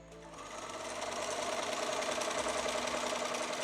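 A Bernina B 770 PLUS sewing machine runs steadily and loudly at speed, its dense, even mechanical hum and rapid needle chatter filling the whole stretch without any voices.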